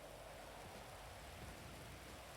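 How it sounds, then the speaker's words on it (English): Steady, faint rain falls outdoors as a continuous soft hiss with no other sounds. "It's raining."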